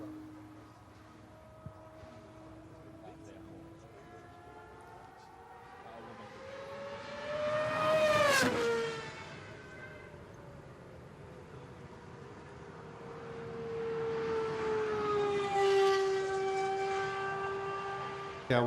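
A 3.9-litre naturally aspirated V12 race car from a GMA demonstration at the Goodwood 78th Members' Meeting screams up toward 12,100 RPM, with one rising high-pitched rev peaking sharply and a second climbing wail following. It is loud and there is no talking.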